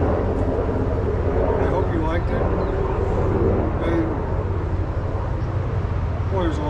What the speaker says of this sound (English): Boy, there's a lot of traffic here.